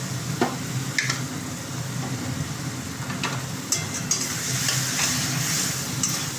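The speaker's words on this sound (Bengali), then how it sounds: "এরকম করে নাড়াচাড়া করতে করতে কষাচ্ছি।" Spice paste for a stingray curry being stirred and fried in a pan, giving a steady sizzle broken by intermittent scraping and clinking of the spoon against the pan.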